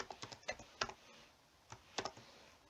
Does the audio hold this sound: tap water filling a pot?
no